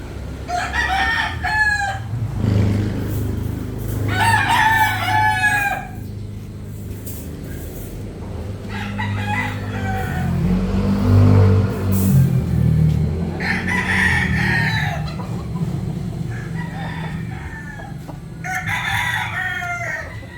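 A Nelson's Hatch broodcock rooster at a game farm crows several times, loud and near, with low background rumble and other fowl in the distance.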